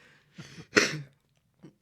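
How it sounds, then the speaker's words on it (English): A short, close throat clearing, a couple of rough guttural bursts in a quiet room, followed by a faint small sound. "Sorry, clear my throat."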